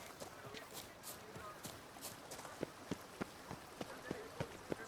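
Horse hooves in The Witcher 3 video game, a run of rhythmic thudding hoofbeats building to sharper, louder strikes toward the end over a steady background wash.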